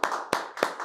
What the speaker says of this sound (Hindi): देखिए उधर भी ताली आ रही है